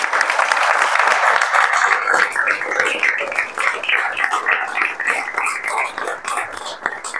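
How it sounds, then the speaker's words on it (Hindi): Applause from a room of students and parents at a JEE Main results celebration, loud, dense clapping that starts strong and slowly thins out, with faint murmuring underneath. "इसके लिए आप लोग ताली बजा दीजिए।"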